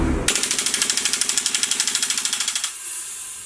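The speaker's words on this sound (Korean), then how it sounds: "그래서 연발로 한번 쏴보도록 하겠습니다." An airsoft gas gun fires full-auto with an empty, cold magazine, giving a fast, even string of sharp pops for about two seconds that slows and trails off into a hissing leak of gas.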